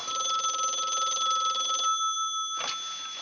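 An old telephone bell rings continuously indoors in a 1970s police drama set in New York, the metallic ringing steady for nearly two seconds, then cut off, followed by a brief clunk as the receiver is lifted.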